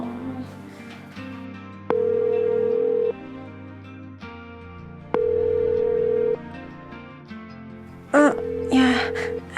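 An unanswered phone call rings out as three evenly spaced ringback tones with quiet gaps between them, and a child's whimpering cry breaks in near the end.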